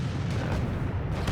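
An artillery gun in the World of Tanks video game fires with a heavy boom that rolls on as a sustained low rumble, loud and close, with no talking over it.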